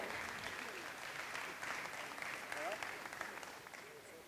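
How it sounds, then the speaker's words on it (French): An audience at a handiboxing exhibition gives faint, scattered applause, steady clapping heard from a distance with a voice speaking over it. "sous vos applaudissements"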